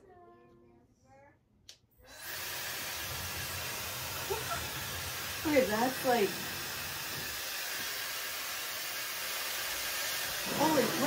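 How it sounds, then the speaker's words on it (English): A hair blow dryer runs steadily after being switched on about two seconds in, a loud continuous hissing roar of rushing air, with a voice speaking briefly over it. "It's a blow dryer. Let's plug it in and dry my hair."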